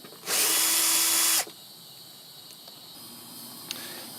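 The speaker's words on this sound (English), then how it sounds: "right here I have a 5/16 socket. So I just remove these two screws." A power driver with a 5/16 socket spins out a screw from a 2009-2015 Honda Pilot taillight assembly: one loud, steady whir lasting about a second, then quiet with a faint click.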